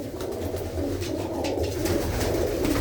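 Racing pigeons kept as a hobby in a Punjab village near Tarn Taran coo steadily, a low rolling murmur of several birds close at hand under a constant ambient hum.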